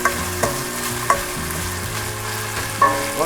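Garlic sautéing in a pan with black beans, a steady sizzle broken by several sharp scrapes and clacks of a spatula stirring, close and fairly quiet with no talking.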